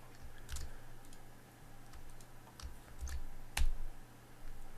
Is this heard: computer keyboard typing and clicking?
yes